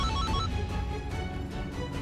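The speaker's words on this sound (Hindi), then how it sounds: "पुष्पा जी, आपके फोन से आवाज आ रही है ये?" A mobile phone ringtone plays steadily for about two seconds, a bright tonal melody that rings close and clear with no talking over it.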